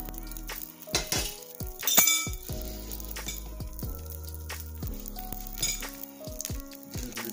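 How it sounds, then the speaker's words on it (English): An egg fries and sizzles in a pan, with crackling spatter, clinks of utensils against cookware and stirring sounds punctuating the steady hiss; no talking. "The egg cooking the whole time, so I try to get everything in there."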